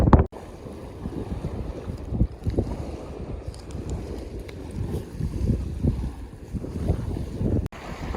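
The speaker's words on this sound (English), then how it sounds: "it's really windy" Strong wind on the Yosemite high country near McCabe Lake buffets the microphone with continuous loud rumbling gusts, no voices present.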